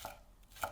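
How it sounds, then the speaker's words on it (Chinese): Knife chopping scallions on a cutting board for a radish, shrimp and egg pancake, two crisp chops near the start and end of a brief, otherwise quiet moment. "葱切末"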